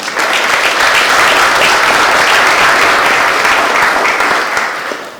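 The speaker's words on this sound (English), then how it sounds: "Give that a round of applause." Loud, dense audience applause at a university presidential address, steady and sustained throughout with no talk over it.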